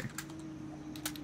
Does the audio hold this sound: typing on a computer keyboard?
yes